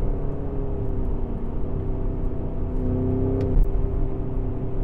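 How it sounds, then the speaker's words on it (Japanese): A Porsche Cayenne Turbo GT exhaust burbles and rumbles steadily in a low drone with a mid-range engine tone, heard continuously for several seconds with one brief louder blip near the end. "バブリングしてますね。"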